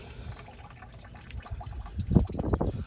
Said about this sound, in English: I already undid that bottom clamp right there for the water. I want more to drain so I don't get some all over the floor